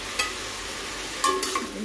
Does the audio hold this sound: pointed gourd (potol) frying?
yes